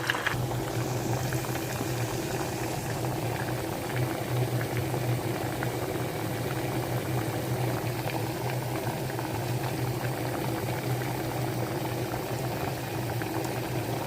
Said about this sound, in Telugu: ఎర్రగా వేగిపోవాలి.